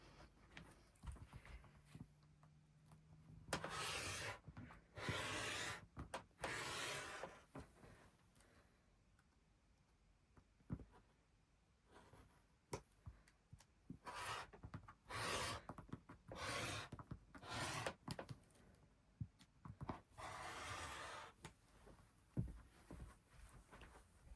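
A rotary cutter slices fabric wedges for a Christmas tree skirt along a non-skid ruler, with repeated rasping cuts and rubbing in irregular bursts between quiet pauses, close by.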